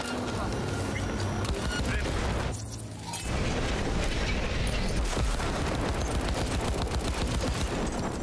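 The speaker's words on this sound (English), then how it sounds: "As I just shoot this guy." Rapid gunfire in Cyberpunk 2077 rattles on almost without pause as loud dense bursts, cut off by one short lull near the middle, and a player talks over it.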